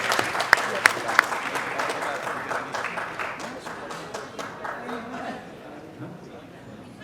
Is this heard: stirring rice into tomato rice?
no